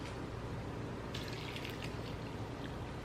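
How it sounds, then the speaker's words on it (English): A cup of water poured into a pan with cauliflower for steaming, a soft continuous splash and trickle close by, steady and quiet with a brighter burst of splashing midway. "I'm going to put in a whole cup of water to steam this"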